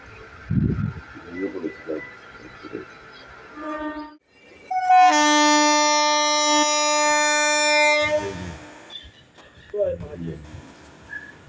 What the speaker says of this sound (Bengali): এখন আজিমগঞ্জ ঢুকছে ট্রেন আমাদের